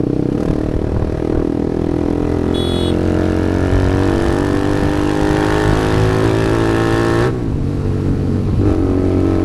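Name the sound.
TVS Apache RR 310 motorcycle with Akrapovic full exhaust riding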